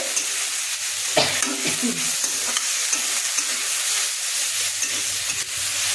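Fish frying with bitter gourd and potato in a pan, giving a steady loud sizzle and hiss with occasional scrapes of stirring, and no voices.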